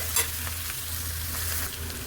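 Spices fry in a pan for a fried rice dish, a constant close sizzle with a few light stirring scrapes and a brief utensil tap near the start, no voices.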